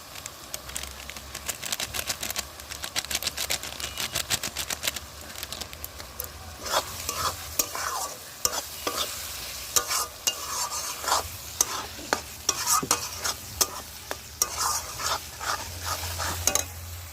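Chili and cumin powder frying in a pan while being stirred, close scraping and clattering of a spoon over a soft, steady sizzle, with quick uneven strokes throughout.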